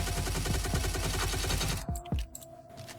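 SA-58 rifle in the online shooter Stalcraft firing a rapid automatic burst of steady, loud cracks for about two seconds, then two separate single shots ring out with a fading echo.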